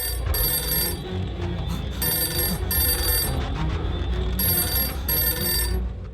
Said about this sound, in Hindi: इसकी तो फिर से फोन बज गया।